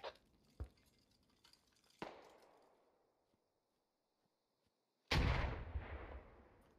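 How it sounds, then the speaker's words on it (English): Mortar shells from Operation: Lawless Range slam around a barn: a few sharp distant thumps with trailing rumble, a quiet gap, then one loud close blast that rolls on with debris and echo. "the mortars get right on the barn in retaliation"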